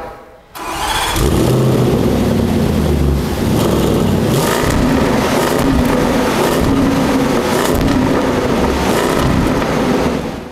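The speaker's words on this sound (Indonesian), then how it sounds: "Ya, itu tadi suara mesin V8 dari sini." A supercharged 5000 cc V8 in a Land Rover Defender 90 cranks and catches, then settles into a loud, close idle with several throttle blips and revs rising and falling.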